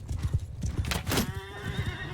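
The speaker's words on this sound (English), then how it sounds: "Oh, I killed this horse." A horse in a war video game, with rapid clip-clopping hooves followed by a loud, wavering whinny rising over the steps, close and prominent.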